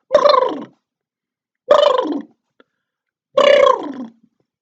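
A voice imitates a turkey gobble three times, each burst a short warbling rattle followed by silence, close and loud.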